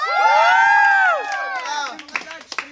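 Crowd at a Filipino dance battle cheering and shouting, high rising voices swelling loudly together, then breaking into scattered yells and claps.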